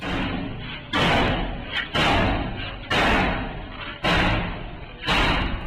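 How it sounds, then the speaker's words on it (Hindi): A soldier strikes a door with a hammer, giving about five loud, heavy slamming impacts spaced roughly a second apart, each ringing out before the next blow. "ये लात से नहीं बल्कि सीधा हथौड़े से ही दरवाजा तोड़ने लगा"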